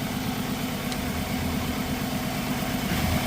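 A car engine idles during a catalytic converter exhaust-pressure test, giving off a steady, even low rumble with a constant hum. It is close and uninterrupted, with no talking.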